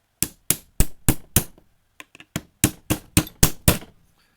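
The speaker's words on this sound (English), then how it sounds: "let me just try and give that a little whack with my" Metal hammer striking a pin, a run of about a dozen sharp, close taps in two bursts with a short pause between, each hit ringing briefly.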